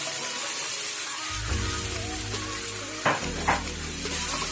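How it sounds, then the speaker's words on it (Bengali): Amudi fish slid into a kadai of hot mustard oil bursts into a loud, steady sizzle that keeps going, with a couple of sharp clanks of a spatula against the pan near the end. "এবার আমি মেখে রাখা আমুদি মাছগুলো আস্তে করে কড়াইয়ের মধ্যে দিয়ে দেব"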